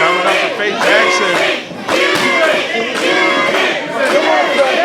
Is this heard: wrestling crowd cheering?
yes